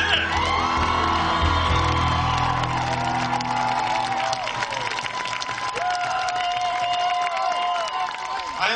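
A large lecture audience cheers, whoops and applauds to welcome historian Howard Zinn to the stage, a loud, dense roar of clapping and shouts that holds steady throughout, with yells rising above the crowd.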